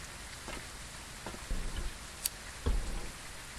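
Rain in the ghost-hunting game Phasmophobia, a steady soft patter with a few sharper taps and thumps, fairly quiet and continuous with no voices.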